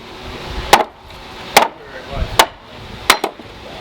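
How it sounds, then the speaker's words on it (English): A cudgel strikes a froe to split fresh pine wood: four sharp, loud wooden knocks at roughly even intervals, each with a brief cracking ring, heard close by in a quiet setting. "And Terence is going to whack a piece and show you just how simply this Froe works."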